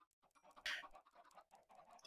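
Minecraft chicken clucks in a short burst inside the video game, a few quick squawky calls over a quiet background.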